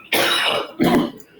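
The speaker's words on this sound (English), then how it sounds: "your poor cough" Two harsh throat-clearing coughs from one person on a radio programme, close to the microphone, separated by a short pause, with no talk.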